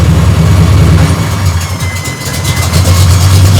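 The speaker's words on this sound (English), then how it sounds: "she will lump down into the low settings so that she can be idling at 650 to 700" Loud, close V8 engine of a 1969 Corvette Stingray idling at 650 to 700 rpm with a deep lumpy rumble, its uneven loping beat steady throughout with no voices.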